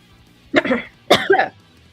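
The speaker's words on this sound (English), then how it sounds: "That was me coughing." Two harsh coughs, close and loud, about half a second apart, with quiet in between.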